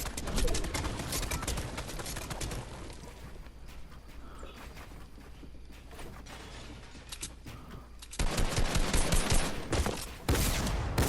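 Rapid bursts of gunfire in a video game shooter, loud repeated volleys with mechanical clatter, growing denser and heavier toward the end.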